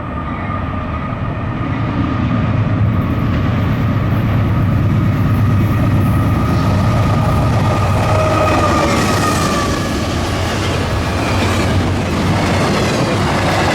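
Norfolk Southern freight train 264 rolls past close by with a loud, steady rumble of wheels and rail cars and faint clickety-clack over about fourteen seconds, with no talking.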